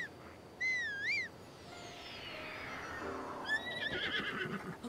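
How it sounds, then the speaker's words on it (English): A horse neighs in The Legend of Zelda: Breath of the Wild, two clear whinnies with a wavering rise and fall, one early and a longer one near the end, both heard over a steady background of game ambience. "call our horse and run over there?"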